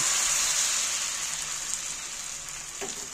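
Batter for egg paratha hitting a hot oiled pan, a close, even frying sizzle that fades slightly as it settles, with a small clink near the end.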